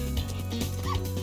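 Dog barking and yipping in the Spyro Reignited Trilogy video game, a few close, steady barks with a whimpering edge running through the short moment, no talk over them.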